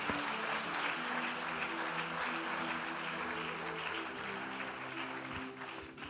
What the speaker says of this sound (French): acclamez bien, acclamez bien